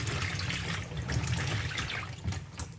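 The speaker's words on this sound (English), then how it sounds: "now I have my pepper in the water. I'm just going to wash it off." Hot peppers being washed in water, with a soft continuous trickle and splashing, close and fairly quiet, without speech.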